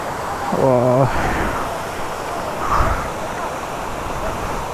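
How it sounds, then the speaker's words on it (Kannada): Steady rushing roar of a rain-swollen waterfall in Chikkamagaluru fills the whole stretch, with a brief voice near the start. "ಫಾಲ್ಸ್ ಹೆಂಗೆ ಹರಿತಿದೆಯಲ್ಲ"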